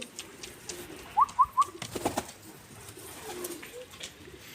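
Pigeons or doves in a backyard coop give three quick, clear coos close by, followed by a brief rustle or wing flutter and softer bird sounds in a quiet setting.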